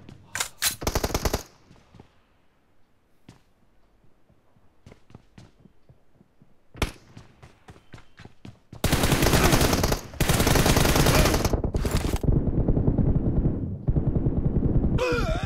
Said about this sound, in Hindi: इसको पिस्टल चला रहा है ना इसीलिए रेट ऑफ फायर ज्यादा है